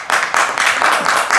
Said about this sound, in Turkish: Ramazan taraftarından da alkışı aldı burada.